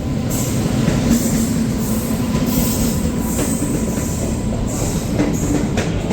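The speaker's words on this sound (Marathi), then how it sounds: "तब्बल अर्ध्या ते पाऊन तासानंतर ट्रेन आलेली आहे zero to one nine seven Jabalpur express" A loud, steady rumble of an express train arriving at a station close by, with rolling wheel noise and faint squeals, continuous throughout without talk.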